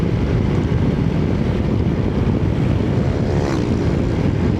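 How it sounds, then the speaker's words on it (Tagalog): Strong wind roars past while riding a motorcycle on a mountain road trip, a loud continuous buffeting rush with no pauses. "Ganyan yung hangin."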